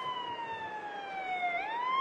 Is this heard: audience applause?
no